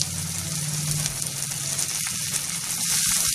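Onions and tomatoes sizzle steadily while frying in a pan for a loitta fish jhuri dish, a continuous close hiss with faint stirring, no talking.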